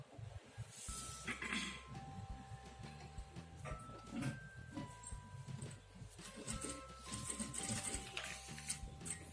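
A sewing machine stitches a blouse shoulder, giving a faint, uneven run of mechanical whirring and clicking in short bursts, heard close but quiet.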